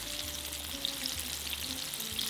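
Korean fried chicken pieces frying in hot oil, a steady, moderately quiet crackle and bubbling that continues without a break.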